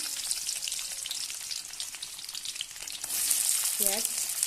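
Chopped garlic goes into hot oil and sizzles steadily in a hissing crackle that swells louder about three seconds in, joined by light stirring scrapes and a brief tonal squeak near the end; no one speaks.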